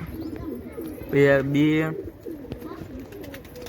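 Pigeons coo in a brief rolling burst while someone talks about his pigeons and their care, the calls rising clearly above the steady room noise for under a second.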